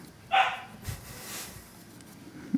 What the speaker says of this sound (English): Puppy barking.